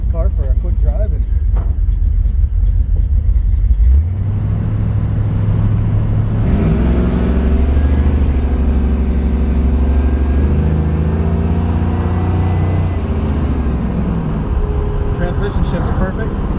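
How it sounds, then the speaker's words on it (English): A 1970 Camaro RS/SS with an automatic Turbo 350 transmission and B&M shifter drives off, its engine note rising and holding steady with audible gear changes, loud and close from inside the car, while someone talks at times. "I'm just going to take the car for a quick drive."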